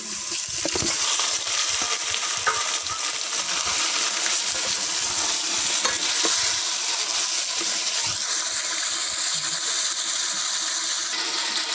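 About 1.5 kg of chicken fries in a pot over a chulha, a traditional wood-fired stove, with a loud, continuous hissing sizzle. Occasional scrapes come from stirring.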